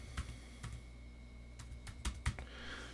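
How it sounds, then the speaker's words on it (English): Keys on a computer keyboard are tapped in a sparse, irregular run of crisp clicks, close and fairly quiet, with no talking. "just type testing and click out of there"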